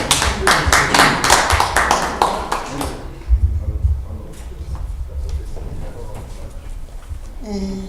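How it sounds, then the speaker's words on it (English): A small audience at an open mic business session claps in a quick burst of close, sharp hand claps that fades out after about three seconds, leaving quiet room noise and faint movement. "Give a round of applause."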